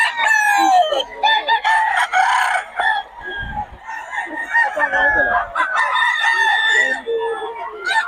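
Several chickens cluck and a rooster crows loudly nearby, with overlapping calls throughout and brief low rustling in between.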